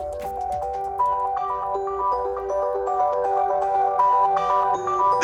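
Tinny melodic tones from the max-volume speakers of a OnePlus 7 Pro phone, a steady ringtone-like tune of bright repeating notes that stays loud and slightly harsh throughout, with no talking.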